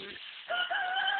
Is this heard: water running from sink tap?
no